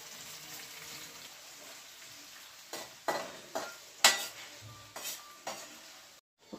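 Onions, green chilies and ginger garlic paste are stir-fried for chicken fried rice. A faint, low sizzle runs under a series of sharp spoon-scraping stirring strokes in the latter half, then cuts off abruptly.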